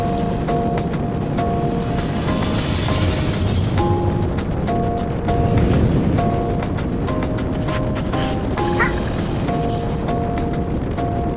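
A 2020 Volkswagen Atlas Cross Sport SEL R-Line with VR6 engine driving on the road: steady cabin road and engine rumble throughout, with faint tonal hums over a constant drone.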